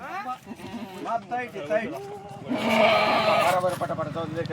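Kathewadi goats bleat in repeated wavering cries, several animals calling over one another up close, followed by a louder burst of jumbled bleating and noisy commotion.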